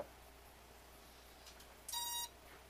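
Power-on startup beeps from an EMAX 25A 4-in-1 ESC on a quadcopter: a short, clear electronic tone burst near the end, loud against a quiet hum with no talking.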